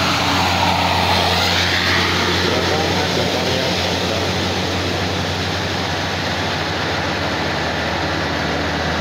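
Broad, steady roar of a propeller plane passing overhead, loud and sustained throughout with no pauses.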